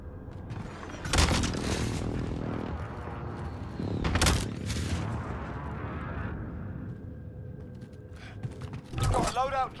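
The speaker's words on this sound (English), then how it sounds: "Enemy precision airstrike." Heavy explosions and gunfire from a precision airstrike in the battle-royale game Call of Duty Warzone, several big booming blasts spread over the stretch, with sustained rumble, a steady high tone and voices talking over the action.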